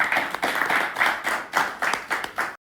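A small group claps in short rhythmic bursts, about seven quick rounds of hand claps, close and fairly loud, with no talking.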